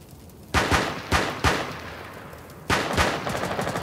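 Pistol shots in Rainbow Six Siege on the Favela map ring out loud and close: two quick cracks, a third shortly after, a pause, then another pair, each with a short echoing tail.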